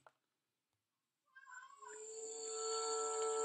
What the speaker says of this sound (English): You'll hear my cat in the background. He wants to go outside.